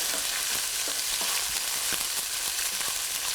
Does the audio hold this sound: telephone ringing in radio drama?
no